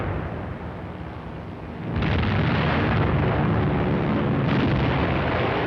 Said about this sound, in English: Der Bombenschütze löst die ersten Bomben. Unten ist bereits die erste Wirkung zu erkennen.